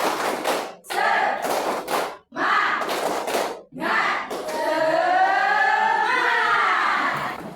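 A standing school class performs the 'tepuk semangat' clapping chant: a few sharp, rhythmic bursts of group clapping, then a sustained chorus of young voices chanting together, close and fairly loud.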